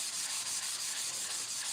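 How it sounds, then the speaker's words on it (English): A kitchen counter is scrubbed hard where spilled iodine was sprayed with bleach, a steady close hissing rub with faint regular back-and-forth strokes for under two seconds, no talk. "So while I'm scrubbing my counter,"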